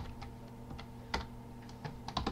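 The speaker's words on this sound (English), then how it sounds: "really messing up my typing" Keys clatter on a computer keyboard in quick, uneven bursts while someone types a message during a Minecraft session, with a low steady hum underneath and no talking.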